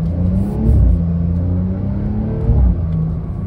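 Porsche 911 992 Carrera 4S with PDK gearbox accelerating, heard from inside the cabin: a loud, steady engine rumble that swells as the throttle opens, with a brief rise in revs partway through and no talk.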